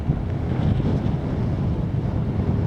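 Strong wind buffets the microphone on an exposed coastal clifftop walk between Southease and Eastbourne, a continuous loud low roar with gusting swells and no voices.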